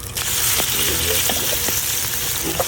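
Ground meat fries in a pan with a close, busy sizzle, broken by scattered pops and spatula clicks as it is stirred, steady from start to finish.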